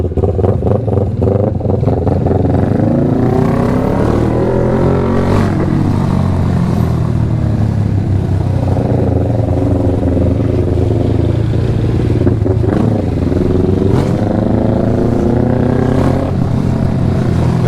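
A Kawasaki Ninja 400 motorcycle ridden in Jamaica, its engine droning loud and close throughout, pitch sweeping up and down with repeated revs and throttle changes.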